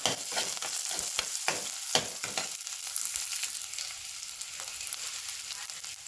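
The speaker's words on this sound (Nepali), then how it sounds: "प्याज पनि हाल्ने, मजाले फ्राई हुन दिने" Onions sizzle and fry steadily in a pan while cooking matar paneer, with a few stirring scrapes early on and a continuous close hiss throughout.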